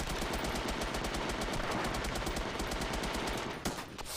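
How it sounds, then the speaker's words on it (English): Rapid automatic gunfire from a close gun battle in the video game H-Hour: World's Elite, loud and near, with evenly spaced shots in a continuous burst that breaks off near the end. "That was the closest gun battle I think I've had playing this so far."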